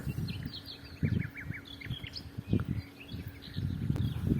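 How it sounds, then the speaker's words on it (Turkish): Small birds sing and chirp in short repeated phrases at a distance in the countryside in May, over a low rumbling background with intermittent thumps. "Kuş sesleri, tabiatın güzelliği."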